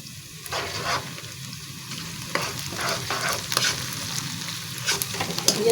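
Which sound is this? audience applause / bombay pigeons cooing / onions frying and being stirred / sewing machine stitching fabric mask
onions frying and being stirred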